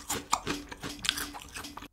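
A crunchy convenience-store snack, ramen-flavored crackers dipped in jalapeño sauce, is chewed close to the mic in a quick series of soft crisp crunches lasting about two seconds.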